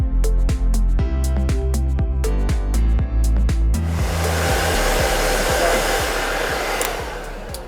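A hair dryer blows hair dry in a salon, a loud, steady close-up roar that runs the whole time, with some tonal sound behind it at first.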